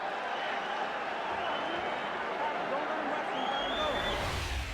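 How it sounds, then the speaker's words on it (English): A boxing crowd in England roars and applauds as the bell ends the fourth round of a Mike Tyson bout, a dense, steady wall of cheering and clapping that fills the whole stretch. "The bell ends round number 4, and the crowd in England loves it."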